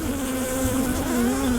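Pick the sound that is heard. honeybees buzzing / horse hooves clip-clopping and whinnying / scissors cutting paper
honeybees buzzing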